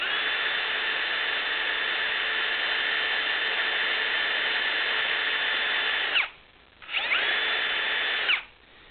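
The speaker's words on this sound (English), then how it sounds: "Small drill bit, look at the spot that you're aiming for," A small bit drilling a hole into a Honda Aquatrax 12x jet ski turbo setup, a steady high-pitched whine running continuously, stopping briefly twice near the end before spinning up again.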